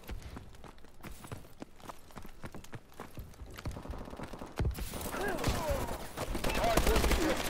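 Gunfire in a shooter video game, scattered sharp shots and clattering mechanical clicks early on, then denser louder firing with whizzing and chaotic battle noise building toward the end.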